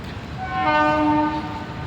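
A train horn at the new Cherlapally railway station, a single sustained, somewhat distant blast that rises then fades over steady rumbling station noise.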